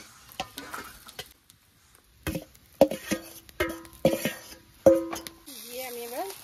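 Chow mein with potato, onion, egg and green chilli is stir-fried in a pan, with sharp spatula clanks and scraping, a soft sizzle and a spoken voice over the cooking.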